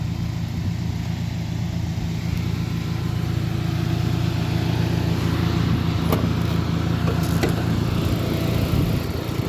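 A 2007 Chevy HHR with a 2.2-litre Ecotec four-cylinder idles steadily and loudly up close under the open hood, a smooth constant hum with a few faint clicks and no talk.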